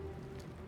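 Rain falling on and running off Batman's cape in the video game Arkham Knight, a short, soft, steady patter and hiss of raindrops with a low hum beneath.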